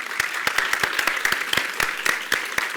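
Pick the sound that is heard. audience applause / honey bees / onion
audience applause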